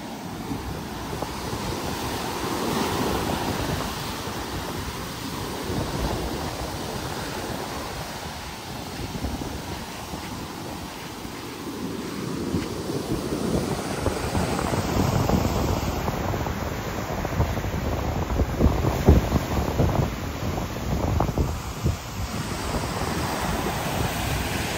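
Ocean waves and wind at a beach in Phuket, a continuous broad roar of surf with gusty wind buffeting the microphone, swelling louder in the second half, no voices.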